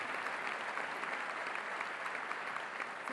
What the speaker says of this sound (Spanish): agradecemos y despedimos con este fuerte aplauso